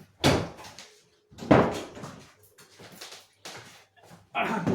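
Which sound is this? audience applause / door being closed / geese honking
door being closed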